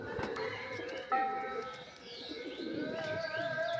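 Pigeons for sale, including a mottled-head hen, coo softly nearby with a few chirps mixed in, while people talk over and around the birds.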